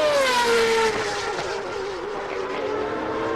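A CART open-wheel race car at Cleveland in 2002 brakes hard for turn 1 on a bumpy circuit, its engine note falling in a loud, steady downshifting whine heard close by with no talk.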